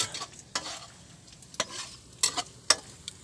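Dried fish (daing) frying in a pan, a soft continuous sizzle broken by several sharp spatula scrapes and clatters at irregular intervals.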